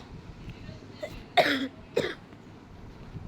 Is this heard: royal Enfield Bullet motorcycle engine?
no